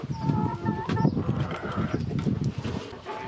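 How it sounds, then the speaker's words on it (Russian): Chickens clucking in a farmyard coop high in the mountains of Dagestan, a busy mix of short clucks and calls close by over a steady rustling ground noise, with no talk. "О, куры!"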